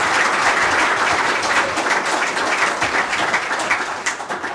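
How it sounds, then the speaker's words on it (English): An audience gives sustained, dense applause for the panelists and keynote speaker at a dialogue on forests, governance and climate change, loud and continuous for over four seconds before thinning slightly at the end, with no voices. "a big hand of applause."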